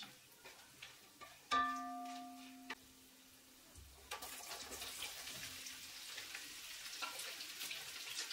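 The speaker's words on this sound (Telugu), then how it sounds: "ముందుగా 150 ml ఆయిల్ పోసి, ఆయిల్ వేడవగానే అందులో ఈ మసాలా దినుసులు వేసి ఓ అర నిమిషం పాటు వేయించండి" Whole spices dropped into about 150 ml of hot oil for a mutton biryani sizzle. A few light clinks and a brief ringing tone come first, then a steady, moderately loud frying hiss runs alone to the end.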